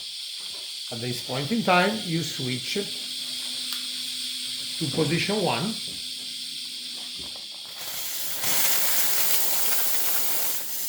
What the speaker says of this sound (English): this is the steam, of course, coming out, and it's becoming greater and greater.